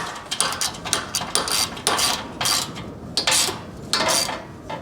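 Ratchet wrench snugging down a single bolt on the rear fender mount of an XLCH chopper motorcycle, a close, loud run of quick clicking bursts repeated about six or seven times in a steady rhythm, with no talk.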